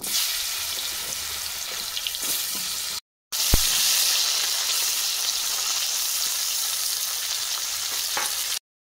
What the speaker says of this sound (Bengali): মাছ ভাজার তেলে করলা ভেজে নেব।